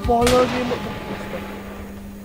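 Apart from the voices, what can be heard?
gunshots in a video game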